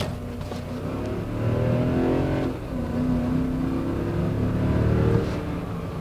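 A naturally aspirated 4.6-liter V8 engine in a 2010 Toyota Tundra drones steadily from inside the cab, rising briefly as it accelerates, with a constant low rumble and road noise throughout.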